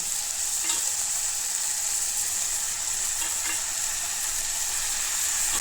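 Chicken gizzards frying with garlic and garam masala, a dense continuous sizzle close up with faint stirring scrapes, steady and loud throughout with no voices.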